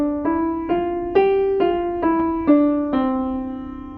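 A simple melody played legato, eight connected sustained notes flowing one into the next without gaps, clear and close with no voices.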